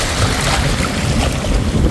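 Afternoon surf rolls onto the seaside boulevard in Masbate City, a constant, loud churning wash of waves with strong wind noise rumbling underneath and no voices.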